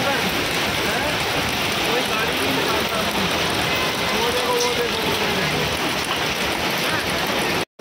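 Dense, heavy pattering and drumming of large hailstones falling on vehicles continuously, loud and close, like ice striking hard surfaces, before stopping abruptly at the end.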